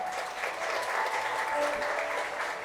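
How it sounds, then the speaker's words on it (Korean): Wedding guests in the grand ballroom of The Convention Songpa Munjeong give the bride, groom and parents steady, warm applause. The even clapping fills the hall throughout, with faint tones running beneath it. "다시 한번 신랑 신부와 부모님께 따뜻한 박수 부탁드립니다."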